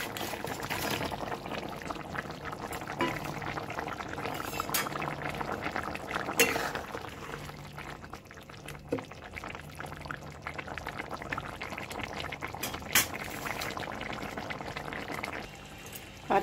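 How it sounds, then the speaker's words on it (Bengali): Green banana kofta curry gravy bubbling steadily in a pan, a continuous close boil with soft gurgling and occasional utensil clinks, no one talking. "ঝোলটা ফুটে গেছে, এবার বড়াগুলোকে দিয়ে দিচ্ছি।"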